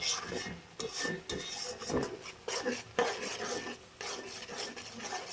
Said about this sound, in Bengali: মশলাটা সুন্দর করে ভেজে নেবেন